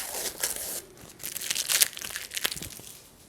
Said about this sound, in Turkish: Şimdi bantlarımı çıkarıyorum.